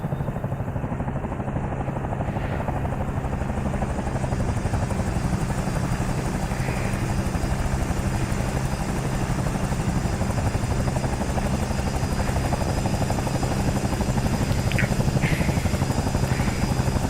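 Bell 222B helicopter in Microsoft Flight Simulator 2020, a loud steady rotor and turbine drone with rhythmic blade chop, continuous and unchanging from start to finish with no talk over it.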